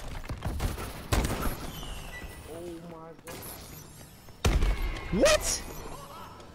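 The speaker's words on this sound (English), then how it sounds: "The bomb blew up when I got near it." A bomb exploding in a 1v1 video game, heard as a couple of sharp bursts and thumps among other game effects, with a person's voice exclaiming over it.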